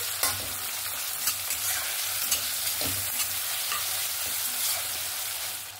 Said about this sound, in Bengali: এই টমেটো কাঁচা লঙ্কাটা ভালো করে একটু ভেজে নেব।